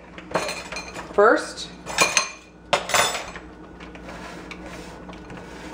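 Cookie dough ingredients being mixed in a bowl by hand, with a utensil clinking and scraping against the bowl in a few sharp bursts, then a quieter stretch; a voice speaks briefly.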